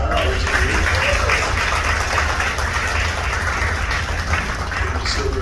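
Audience aboard the American Queen steamboat applauding its third engineer, a steady wash of clapping over a loud low rumble of engine or machinery noise, sustained throughout.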